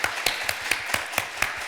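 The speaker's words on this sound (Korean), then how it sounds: "우리 인사하실 때 큰 박수로 환영합니다" Church congregation clapping in welcome for the pastor and evangelist's families as they greet the room, a loud, steady run of claps with regular sharp peaks and no talk over it.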